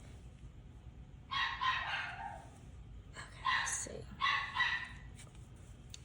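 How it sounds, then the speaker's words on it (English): Several dogs bark in short bursts at a moderate distance, in a few clusters with pauses between, and a person speaks briefly. "My house, there's always dogs barking, it seems like."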